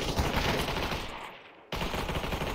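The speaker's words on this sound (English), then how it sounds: "Somebody else is shooting at him." Rapid automatic gunfire from the VR battle royale game Population: One, dense and continuous for over a second, then cutting off to near silence before a second burst resumes loudly.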